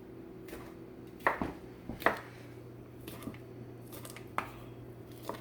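An old sausage being sliced with a chef knife on a board gives a handful of sharp, spaced cuts and taps close by, separated by quiet pauses.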